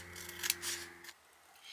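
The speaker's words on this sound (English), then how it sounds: "what I want to do is just trim this down a bit" Scissors snip through a sliver of transfer tape during a craft project, two or three quick close cuts in a quiet room, then near silence.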